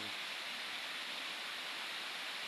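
At Agutayo Falls, a waterfall gives a faint, steady broadband rush, even and continuous, with no other sounds over it.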